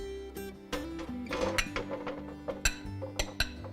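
A roasting pan of vegetables goes into the oven with a run of metallic clinks and clanks, sharp knocks scattered irregularly and close by, no voices.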